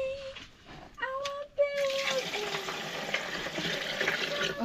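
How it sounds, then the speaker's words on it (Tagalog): Water splashes and rushes into a pot holding pasta, set to boil, starting after a few brief tonal clinks and continuing as a close, steady pour to the end. "tas nilagyan ng tubig at pinakuluan."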